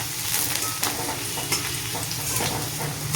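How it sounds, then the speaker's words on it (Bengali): Shredded potatoes fry in hot oil in a wok, a steady crackling sizzle punctuated by scraping stirs of a spatula, close and continuous with no talking. "এই যে দেখো ঝুরি আলু ভাজা করছি"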